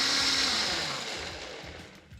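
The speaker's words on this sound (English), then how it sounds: "now that this has been obliterated by my bigger blender" Large blender pureeing butter chicken sauce, a loud steady motor whir that slowly winds down with no talk over it.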